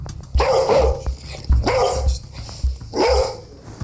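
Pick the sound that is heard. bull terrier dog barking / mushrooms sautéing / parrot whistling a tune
bull terrier dog barking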